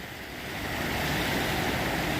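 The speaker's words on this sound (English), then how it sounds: "Look at those crashing waves." Ocean waves break on the rocky Oregon coast near a lighthouse, a steady, loud broadband rush of surf that swells slightly and then holds, with no voices.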